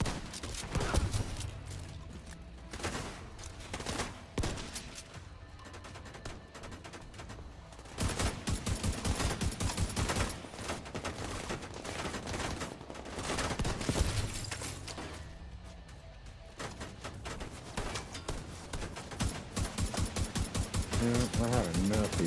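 Video-game gunfire from Tom Clancy's The Division 2, with repeated dense bursts of automatic shots, loud and close, running through most of the stretch while players talk over it.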